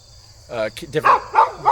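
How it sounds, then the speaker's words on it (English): A leashed dog in a garden gives a few sharp barks or yips in quick succession, close to the listener, with insect-like chirping in the background. "Sorry about the dog. He's not normally on the leash,"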